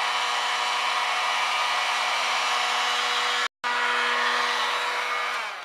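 A heat gun blows steadily to reheat a plastic ring on a form for a homemade soap dish, a continuous loud whirring roar with one brief cutout before resuming.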